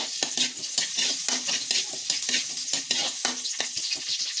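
Chopped onion frying in hot oil in a wok-style pan, a steady close sizzle with bursts of stirring and scraping throughout, no talking.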